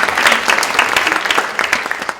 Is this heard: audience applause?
yes